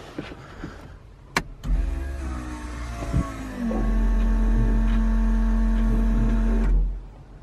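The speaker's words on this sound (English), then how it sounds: "I just want to hear the fuel pump" An electric fuel pump in a car with a newly installed fuel cell runs with a steady, close motor whine after a few clunks and clicks, holding an even hum until it cuts off.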